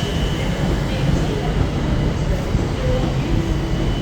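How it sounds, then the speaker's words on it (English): Northern Class 331 electric train at Manchester Piccadilly station, a continuous low rumble and hum of the train running close by, steady throughout with faint station ambience. "one of the newer northern trains as well. Class 331."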